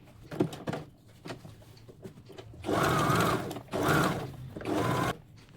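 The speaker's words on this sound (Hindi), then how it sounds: "इसको मैंने सिल लिया है, पूरा सिल लिया।" Sewing machine stitching a suit neckline, its motor running in three loud sustained bursts with short pauses and lighter handling clicks in between, close up.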